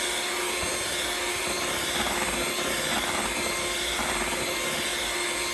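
Electric hand mixer motor whipping cream into homemade butter, a steady loud whirring drone that holds without pause throughout, with faint rubbing and scraping of the beaters in the bowl.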